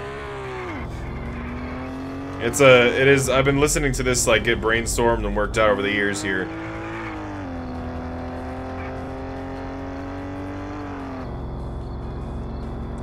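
A car driven in a video game, heard as a steady engine hum that rises in pitch then levels off through the clip, with someone talking over it in the middle.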